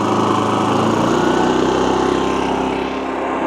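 A GenMax 10500XiT generator engine runs at high idle, a loud, close, continuous buzzing drone with a steady pitch throughout.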